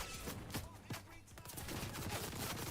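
Rapid gunfire in an online shooter game, crackling bursts of shots at moderate distance running under quiet talk.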